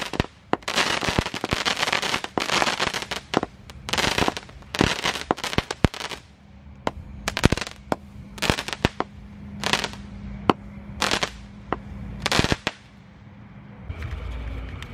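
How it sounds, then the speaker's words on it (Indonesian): Four boxes of mini cake firecrackers go off at once, sending a dense run of sharp, loud bangs and crackles that thin into scattered single pops over roughly fifteen seconds. "terima kasih sudah mengikuti menyalakan mercon mini cake 4 kardus sekaligus"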